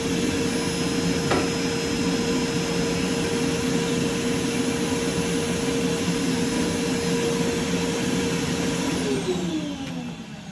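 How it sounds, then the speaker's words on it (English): A screen printing vacuum table runs with a loud, steady motor roar and high whine that holds constant for about nine seconds, then winds down near the end. "I'm going to hit the vacuum table."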